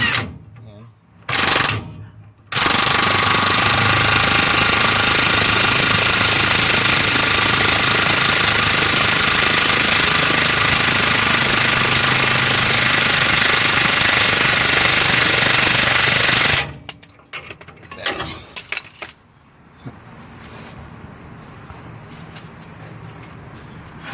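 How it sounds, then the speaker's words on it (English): A Snap-On wrench tightening a torsion bar bolt on a 1993 Toyota Pickup makes a loud, continuous mechanical rattle that runs unbroken for about fourteen seconds, with brief clanks before it starts and after it stops. "Just gonna put my handy dandy snap-on wrench into tighten."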